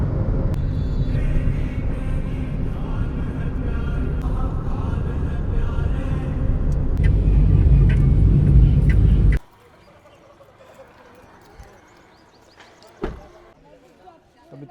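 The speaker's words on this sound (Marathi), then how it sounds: "मस्त मजा येते आज गाडी चालवायला." A car driving along an empty road gives a steady, loud rumble of engine and tires for about nine seconds, then drops abruptly to a quiet background with a few faint knocks.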